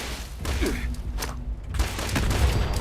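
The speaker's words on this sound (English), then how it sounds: "Grenades are amazing against robots" Grenade explosions against robots in Fallout 76 rumble through a dense, noisy blast of low booms and crackling debris that stays loud for the full few seconds.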